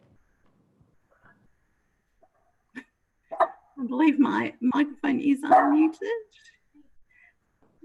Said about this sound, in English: you can probably hear some dogs barking